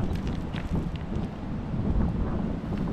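Wind blows steadily outdoors under an overcast sky, a close, rumbling buffeting across the microphone that holds constant with slight surges and no talk.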